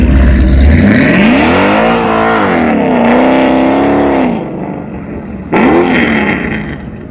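A Dodge Hellcat engine revs loudly and close with the tires spinning, the pitch climbing and falling through several sweeps before dropping away and flaring up again.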